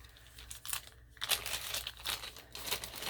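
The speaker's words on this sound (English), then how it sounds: "they had a box of these little plastic bags" Small plastic bags from a yard sale box crinkle and rustle up close in repeated bursts, with a short pause in the middle and no talking.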